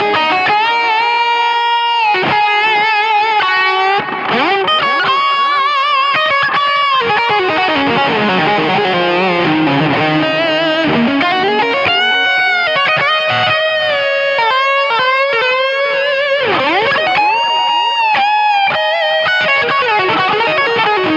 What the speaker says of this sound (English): here's my lead sound, which is just the same thing we just had, but with a little overdrive in front and then that stereo delay